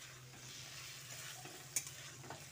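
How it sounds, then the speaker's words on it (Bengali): Spices and whisked yogurt being stir-fried over low to medium heat in a pan for a raw banana vegetarian dish, with a steady soft sizzle, scraping stirs and a sharp clink near the end. "এবার লো টু মিডিয়াম হিটে মশলা ও দইটাকে দিয়ে ভালো করে কষিয়ে নিচ্ছি।"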